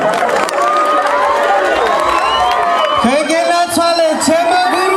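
A large crowd at a live outdoor concert event in Ozurgeti, Georgia, cheers and whoops loudly and continuously, with many overlapping shouts and whistles close by.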